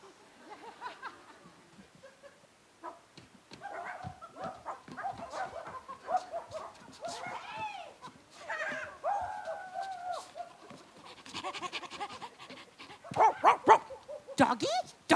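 A performer in a stage skit imitates a dog with their voice, giving yips, whimpers and bark-like bursts mixed with speech and audience reaction, moderately loud in a hall.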